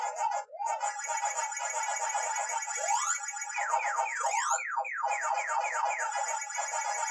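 Pac-Man game sounds from a MyArcade Namco mini arcade: a continuous warbling electronic siren with rapid chirping, sweeping blips, bright and steady throughout.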